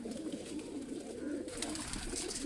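White pigeons of an old Italian breed coo in a low, continuous murmur close by, a steady throaty rumble that swells slightly toward the end with some faint background noise above it.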